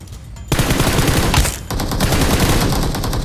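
Rapid automatic gunfire in PUBG Mobile, with loud, dense bursts that run almost continuously and briefly drop off midway before resuming.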